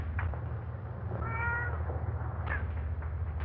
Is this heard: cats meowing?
yes